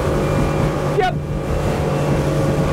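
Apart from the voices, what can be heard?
Nimbus T9X motorboat doing a burnout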